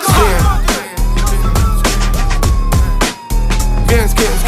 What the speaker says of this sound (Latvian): kad dzirdi policija brauc